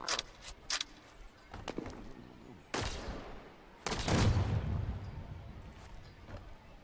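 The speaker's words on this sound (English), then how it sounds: "Taking pot shots at the bandit." Scattered gunshots from the video game The Signal From Tolva, with sharp single cracks and short bursts spaced irregularly apart and a louder, longer volley near the end, quiet gaps between them.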